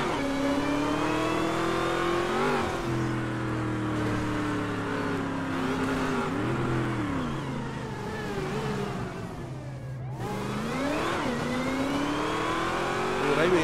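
Fast car in GTA roleplay accelerating and revving, a loud, steady engine drone with pitch climbing through gear changes, a brief drop, then a fresh rev; people talk over it.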